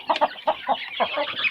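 Four young roosters, recovering from sneezing illness, cluck and call close by in short bursts over a steady background of farmyard poultry chatter.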